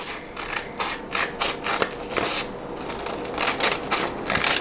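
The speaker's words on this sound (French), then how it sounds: "Donc, je découpe le surplus de papier." Scissors trimming excess paper from a sewing pattern for a belt bag, a close, steady series of crisp snips and rustling paper repeating in an uneven rhythm throughout, with no voices.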